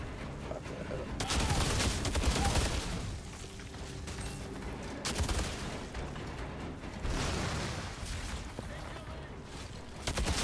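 Distant volleys of gunfire and blasts in the shooter game Outriders, bursts swelling and fading in waves over a steady background rumble, fairly quiet and without talk.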